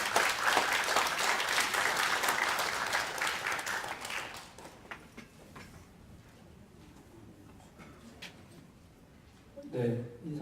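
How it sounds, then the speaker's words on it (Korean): Audience applause welcoming a school principal to the stage at a Korean education forum, a dense burst of clapping for about four seconds that fades away, followed by quiet room noise and brief talking near the end. "뜨거운 손뼉으로 환영해 주십시오"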